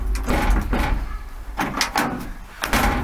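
Car door on an AMC Javelin swinging shut with a couple of solid thumps and latch clunks, close by, amid some handling noise.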